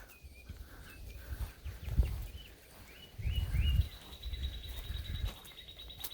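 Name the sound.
birds singing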